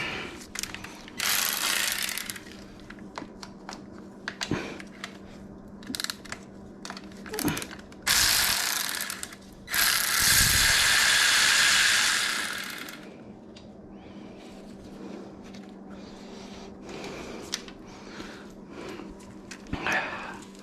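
A hand ratchet clicks in quick bursts while loosening a 10 mm bolt on a 2000 Kawasaki Ninja ZX6R motorcycle, with several separate ratcheting runs, a longer sustained stretch in the middle and metallic knocks in between.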